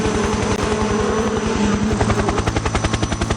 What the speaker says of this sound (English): Alright, up in the helicopter